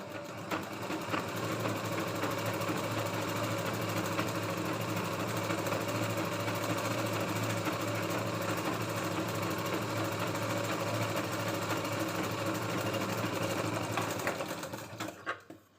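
A sewing machine stitches a katori blouse in one continuous fast, buzzing run that stops abruptly near the end, close and steady with no talk.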